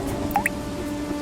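Water dripping from a leaking roof in a downpour: two quick, clear drops land close together, each a bright plink with a rising ring, over a quiet low background hum.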